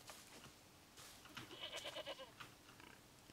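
Goats bleat in a video game set on a Caribbean island, several quick, quavering bleats in a row, faint and low, with soft clicks and thuds around them.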